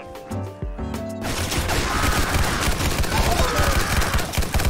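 Rapid gunfire from a gun in a Roblox video game, a dense sustained burst of shots that starts after a brief moment of game sound and continues loudly to the end.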